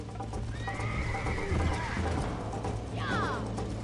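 Horse neighing and whinnying in the Red Dead Redemption game, with a rising whinny near the start and another sharp neigh near the end, over steady clip-clop hoofbeats and game background noise.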